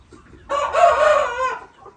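A rooster crows once, loud and close, a drawn-out call of about a second rising over quiet farmyard background with chickens nearby.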